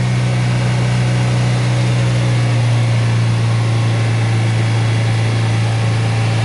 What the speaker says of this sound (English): the rough idle in this car